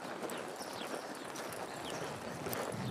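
Horse hooves clip-clopping on arena ground during a one-barrel drill, a quick uneven run of faint, soft hoof beats at a distance.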